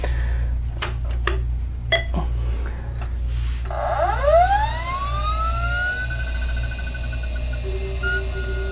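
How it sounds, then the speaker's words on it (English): A Tandy 1000RL hard drive spins up, a rising whine that sweeps upward in pitch and settles into a steady tone over a constant low hum, preceded by a few sharp clicks. "You'll be able to hear it. It spins up. It's pretty loud."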